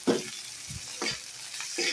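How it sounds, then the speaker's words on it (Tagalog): Tomato, garlic and onion sauté in a pan for a home-style sardine and vegetable dish, giving soft sizzling under a few scraping stirs of a utensil, close and fairly quiet. "igisa na natin sa bango."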